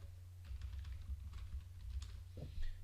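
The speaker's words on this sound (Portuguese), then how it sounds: "Se eu digitar José" Keys on a computer keyboard are tapped in a quick irregular run of soft clicks, close by and fairly quiet over a low steady hum, with no one talking.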